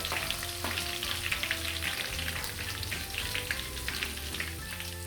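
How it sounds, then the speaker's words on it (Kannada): Ginger, coriander stems and garlic fry in a little oil for veg fried rice, a steady dense sizzle close to the pan, with faint stirring scrapes and no talk. "ಶುಂಠಿ, ಕೊತ್ತಂಬರಿ ಸೊಪ್ಪು ದಂಟು ಹಾಗೂ ಬೆಳ್ಳುಳ್ಳಿ ಸ್ವಲ್ಪ ಎಣ್ಣೆಯಲ್ಲಿ ಚೆನ್ನಾಗಿ ಫ್ರೈ"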